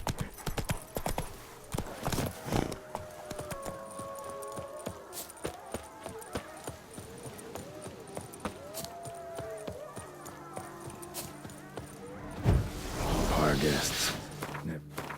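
Horse hooves clip-clop steadily through The Witcher 3, a continuous rhythmic trot under game music and ambience, with a brief neigh or louder burst near the end.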